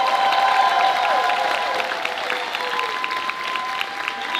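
A crowd at a graduation ceremony claps for graduating students, a dense, steady applause that carries on throughout, with faint voices and cheering mixed in.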